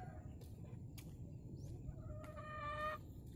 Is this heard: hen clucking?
yes